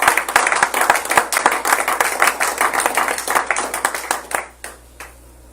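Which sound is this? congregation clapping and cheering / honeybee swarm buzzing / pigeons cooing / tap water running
congregation clapping and cheering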